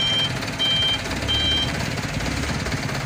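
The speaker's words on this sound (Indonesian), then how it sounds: "Ini satu mobil yang akan bakalan narik." At a damaged bridge, a vehicle manoeuvres into position to tow, its engine rumbling under a thin series of repeated reversing beeps, all moderately close.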